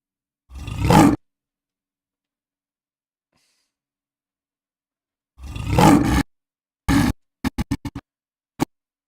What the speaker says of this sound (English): We've got the lion roar.